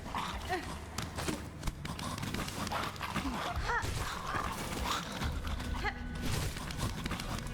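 Dog-like creatures in the video game Hollow Knight: Silksong, with repeated yelps, barks and panting calls over busy game sounds and footsteps, fairly close and continuous.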